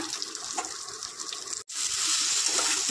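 Warm water pours into a cooking pot for a Bengali kochu, potato and soybean kofta dish, a steady hissing gush with one brief break before it resumes, close and fairly loud, without talk.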